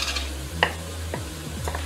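Onion frying in oil over medium heat: a soft, steady sizzle underneath close spoon scrapes and a sharp little clink against the pan.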